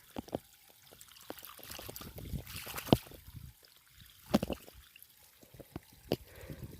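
Water trickles and pours into a small garden bed, a soft steady flow punctuated by sharper splashes and drips, close by and fairly quiet.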